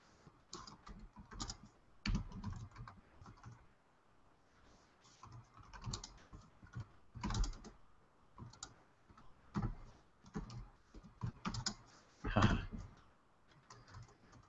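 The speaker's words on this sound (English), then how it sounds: "I'm on a laptop, so I may be typing" Laptop keyboard typing in quick bursts of clicky keystrokes separated by short pauses, close and fairly quiet, with no voices over it.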